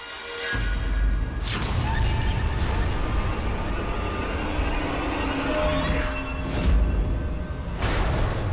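Glass shattering in a dramatic TV scene, a loud crash with tinkling debris followed by further bursts of breaking and scattering glass over several seconds, no speech.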